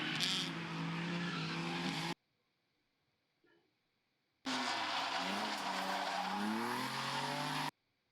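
Mazda Miata racing or drifting at the Boonies Bash event, heard as two loud close bursts of engine roar with revving pitch changes and tire squeal, split by a stretch of near silence.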